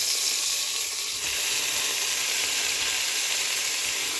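Spinach hitting a hot wok with panch phoron, dried red chilli and bay leaf, a loud continuous sizzling hiss that stays steady throughout with no voices.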